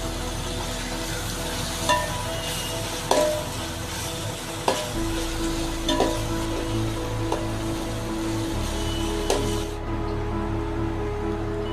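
Onions with added ginger garlic paste and salt fry in a pan for a chicken biryani, a steady sizzle broken by repeated scrapes and taps of a spoon stirring, with no talk.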